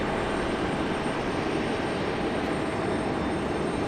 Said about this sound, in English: Delta Mantis making its way off the runway